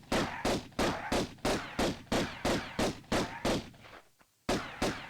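A steady string of about a dozen evenly spaced pistol shots fired at a mummy in the 1996 Tomb Raider game, each crack loud and sharp with a short decay, followed by a brief pause and one more shot.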